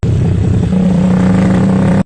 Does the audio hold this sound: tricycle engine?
yes